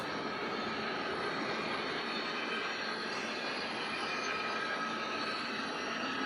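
A model train, HO or N scale, runs along its track with a steady, even rolling hum and faint wheel whine, moderately quiet and continuous, with no one speaking over it.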